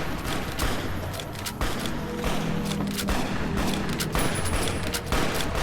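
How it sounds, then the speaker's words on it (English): Rapid gunfire crackles through a shootout in Fallout New Vegas, a dense run of overlapping shots and thuds with brief gaps, loud and continuous. "It's a very terrible shootout if no one's actually getting shot"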